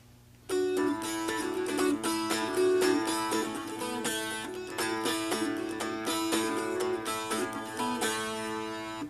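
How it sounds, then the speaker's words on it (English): Bright, ringing hammered dulcimer played fast, with sharp rhythmic slaps on the low and high strings driving a steady, lively pulse. "You can hear how I'm just slapping that bass string"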